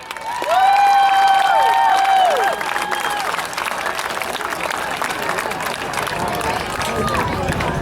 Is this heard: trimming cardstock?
no